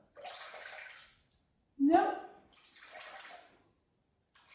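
Water poured and splashed in a kitchen while making play dough, coming in a few bursts of splashing and trickling, with a short spoken word partway through.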